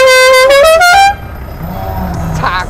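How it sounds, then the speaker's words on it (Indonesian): A Mazda Miata MX-5 horn honks loudly and steadily for about a second, its pitch stepping up partway through, then cuts off to quieter outdoor background with faint voices. "klaksonnya mana nih"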